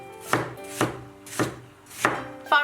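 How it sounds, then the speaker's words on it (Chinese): A knife cuts a peeled potato into thin shreds on a cutting board, with five close, distinct chops at a slow, even rhythm and brief pauses between them. "再切细丝"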